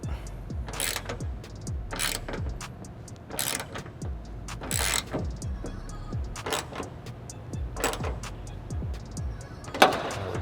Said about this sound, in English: we're going to use a 10mm socket and ratchet to install the rivet nut